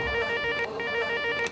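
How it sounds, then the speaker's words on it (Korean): A telephone rings with a steady electronic warble in a busy rice cake shop during the pre-holiday order rush, one continuous ring filling the short stretch. "쉴 새 없이 울리는 전화, 대박집의 인기를 실감케 하는데요."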